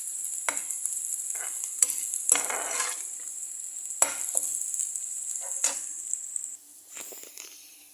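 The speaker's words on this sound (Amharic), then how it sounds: "እዛ ደግሞ ሽንኩርት እየበሰለ ነው" Onions frying and sizzling in a pan while a potato dish is cooked, with a steady hiss and repeated sharp stirring scrapes of a utensil against the pan, close and alone with no talk.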